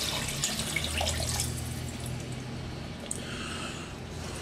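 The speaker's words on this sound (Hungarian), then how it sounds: "Felöntjük." Running water from a tap pours steadily into a pot while cabbage soup is being made, a continuous close splashing wash that softens slightly midway, with no talking.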